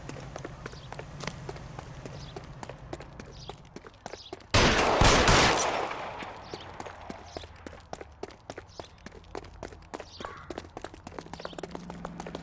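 L.A. Noire chase on foot: rapid footsteps and scattered sharp cracks tick along quietly before a single loud gunshot burst rings out mid-way, then the running and clatter continue.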